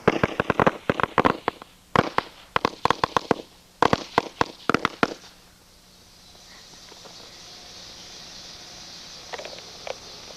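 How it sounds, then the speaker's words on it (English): Small explosives set off to blow up a stage, loud sharp crackling bangs in rapid clusters over the first five seconds, then a low fading hiss with a couple of faint pops near the end. "as Bob's men prepared to blow up Larry's men lit their own explosives to blow up the stage"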